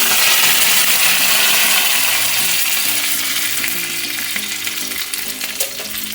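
Curry leaves and dried red chillies with urad and chana dal tempering in hot oil for mor kuzhambu, a loud, dense crackling sizzle that continues steadily throughout, slowly easing slightly toward the end.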